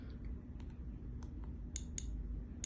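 Several sharp, small clicks scattered irregularly over a steady low hum, close by and fairly faint, from a dosimeter's button being pressed.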